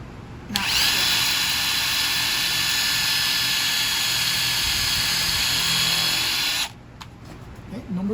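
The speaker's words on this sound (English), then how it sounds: "So I've got in the clamp to drill a pilot hole so that we can not split." A power drill bores a pilot hole into clamped wood for a garden table, a loud steady whine running about six seconds before stopping abruptly, with faint voices before and after.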